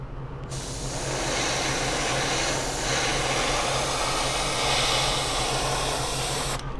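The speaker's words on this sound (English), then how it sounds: "Spray that bottom edge." Steady close aerosol spray hisses over a 1/25 AMT '62 Thunderbird model, one long continuous burst with slight swells, starting and stopping sharply.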